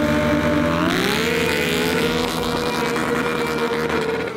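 Motorcycle engine revving hard during a drift, a KTM 790 Duke or Kawasaki Ninja ZX-6R, with a loud sustained roar that climbs and holds at high revs for the whole stretch, close and without talk.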